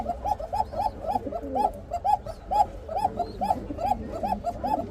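Male and female Rajshahi highflyer giribaj pigeons coo steadily in a near, continuous rhythm of repeated rolling calls, a constant low background hum beneath them.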